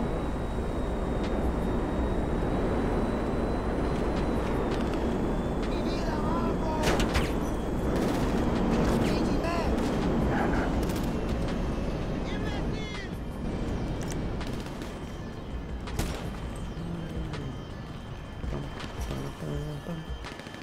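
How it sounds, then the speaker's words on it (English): Gunfire in a video game cracks in scattered, distant shots over a constant engine-like rumble, and someone talks over parts of it. "What is that shooting?"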